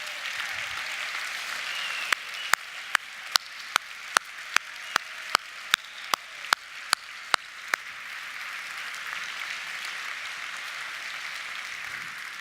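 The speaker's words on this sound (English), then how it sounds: "let's give you all a round of applause for your efforts from last year." Convention audience applauding a class of attendees, a steady broad wash of many hands clapping across the whole span, with a run of sharp, evenly spaced louder claps standing out in the middle.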